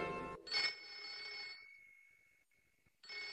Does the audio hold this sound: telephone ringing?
yes